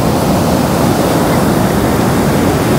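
Strong sea waves crash in a constant, dense, loud roar of surf filling the whole stretch without pause.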